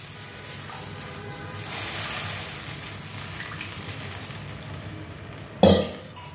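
Thin broth is poured into a pan of katla fish curry seasoned with kalo jeera and green chilli, a soft splashing rush of liquid over a low sizzle, followed near the end by one sharp metallic clink of a utensil.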